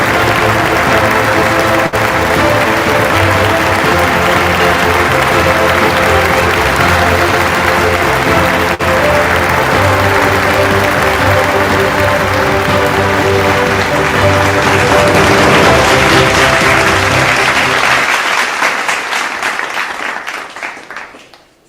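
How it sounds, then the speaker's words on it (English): An award ceremony audience gives a winner sustained, dense applause and cheering, loud and continuous for about eighteen seconds before quickly fading to silence. "Come on, the cheer should not be missed."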